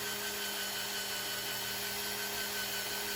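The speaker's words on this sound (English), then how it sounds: "So we'll start with a small drill" A small drill whirs steadily for a few seconds while drilling out a gear selector ball joint on a Triumph 955i motorcycle, a constant high buzzing whine with no talking.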